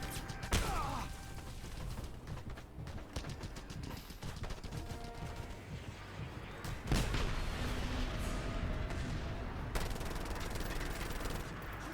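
Gunfire in a video game where towers are attacked, with continuous bursts of automatic shots, occasional heavier impacts and mechanical clatter, all fairly quiet and steady throughout.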